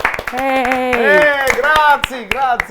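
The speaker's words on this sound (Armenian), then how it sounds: "եկեք ծափահարենք" A studio audience on a talk show claps in sharp, scattered bursts under a loud voice that keeps speaking over the applause.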